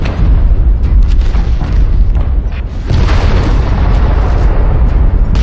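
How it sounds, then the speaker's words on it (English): A loud artillery strike in a mech warfare video game, heavy booming blasts that roll on continuously with a brief dip and a fresh impact midway, no voices. "It's an artillery strike."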